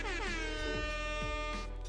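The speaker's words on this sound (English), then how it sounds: "the air horn." A loud, blaring air horn sounds continuously with a brassy, buzzing tone, briefly dipping in pitch a few times.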